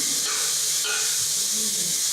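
Onion hitting a hot pan of melted margarine, giving a steady, loud, broad sizzle and hiss throughout without a break.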